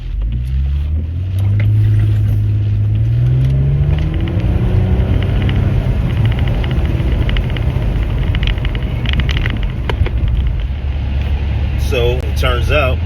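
Steady low engine drone and road rumble inside a 2009-2014 Nissan Maxima being driven, with a rising engine tone early on, continuous cabin noise and a voice speaking under it.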